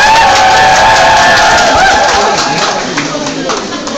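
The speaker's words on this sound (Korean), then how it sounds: "우리 두 분께 박수 한번 부탁을 드리도록 하겠습니다" Crowd applause and cheering for the entrance of figure skater Kim Yuna and chairman Cho Tae-kwon at a product launch event. A loud, dense wash of clapping holds steady, then eases slightly toward the end, with amplified voices mixed in.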